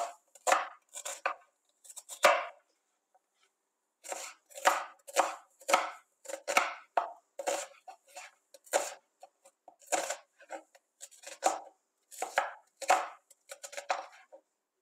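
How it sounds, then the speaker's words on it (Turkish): A knife chops a dry onion into coarse julienne on a board, giving a long run of crisp, close, evenly paced cuts in quick bursts with a few short pauses. "Bunu da hemen iri jülyen doğruyorum"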